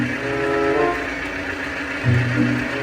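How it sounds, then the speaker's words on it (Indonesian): Argo Wilis passenger train hauled by a CC06 locomotive, switching tracks: a steady, loud rumble of rolling wheels and carriages with tonal hum and a heavier surge near the end. "kereta api CC06 rangkaian kereta api Argo Wilis yang langsung berpindah jalur"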